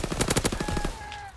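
Rapid automatic gunfire in the WWII shooter Call of Duty WW2, a fast run of close cracks that fades into ringing tones and tails off.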